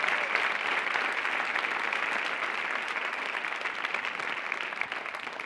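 Sustained audience applause at a Burns Night celebration. Dense, even clapping from a sizable crowd carries steadily from start to finish.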